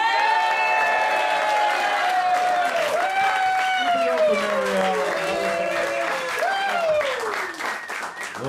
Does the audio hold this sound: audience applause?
yes